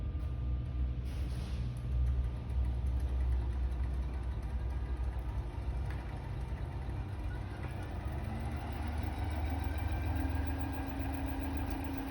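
An electric motor hums steadily in an energy conversion lab practical, running as its supply voltage is raised to 50 volts, with a continuous low drone and mechanical vibration throughout.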